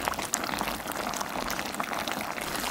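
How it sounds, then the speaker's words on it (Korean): A spicy pork rib stew heavy with chili flakes simmers in a pot while its broth is spooned over the ribs. Dense, close bubbling and liquid splashes continue without a break. "이렇게 국물을 끼얹어주면서 졸여주면 돼요."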